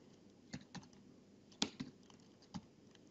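A command is typed on a computer keyboard, about half a dozen separate close key clicks spread unevenly across a quiet room, with no talk.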